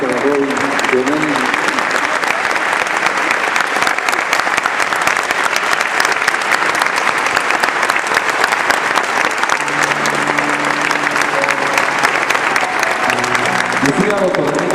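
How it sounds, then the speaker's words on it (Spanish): A large crowd at a commemorative dignification ceremony applauds loudly and continuously for a long stretch, the clapping steady and dense, with faint voices underneath at times. "Muchos aplausos para Robin"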